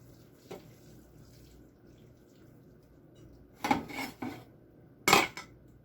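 A metal spoon scooping thick meaty bolognese sauce from a pot, with a faint clink early, then a few loud, close scraping clanks against the pot and a sharp final knock.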